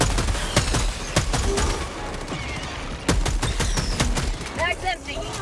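Gunfire in the video game Helldivers 2 comes as rapid bursts of loud, sharp shots in irregular clusters, with brief gaps and some crackling effects, while players' voices come through now and then.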